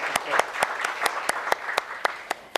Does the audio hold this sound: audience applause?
yes